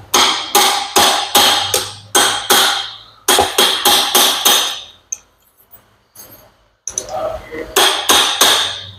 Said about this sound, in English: Take our aluminum punch, and basically we just hammer that head back